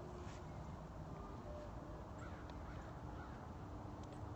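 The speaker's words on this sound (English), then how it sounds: "The birds are waking up." Birds cawing over a lake at sunrise, a few scattered distant calls against a quiet, faint outdoor hush with light wind.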